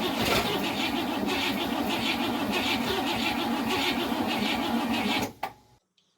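A 1959 Pontiac engine cranking on a weak battery, a steady, laboring starter whir that churns for about five seconds without catching, then cuts off into silence.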